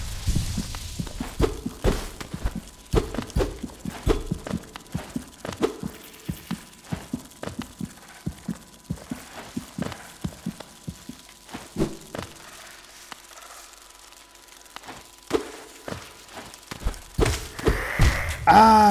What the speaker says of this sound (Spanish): Oyes el latido.